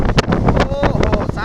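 A strong windstorm batters the microphone in a village, with loud, gusty roaring bursts and buffeting that pulse irregularly and nearly continuously.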